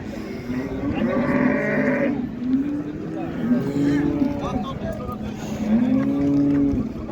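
Repeated moos from a young bull and other cattle sound at a crowded livestock bazaar in Qarshi, several calls spread across the stretch, close and steady beneath ongoing voices of traders.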